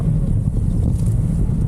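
Steady low wind buffeting a microphone outdoors in a wide open area during a bike race, a continuous loud rumble with no talking.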